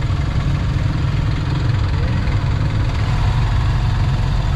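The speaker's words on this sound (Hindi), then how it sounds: "ये देखिए छोटी सी रिक्शा है" A small auto rickshaw engine runs steadily during a ride in the Philippines, a loud continuous low rumble and vibration heard up close with no speech over it.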